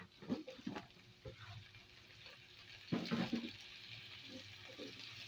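Chunks of papaya go into a pan where chicken, onion, garlic and ginger are sautéing, giving a soft sizzle with a few stirring scrapes and a brief louder splash of frying midway.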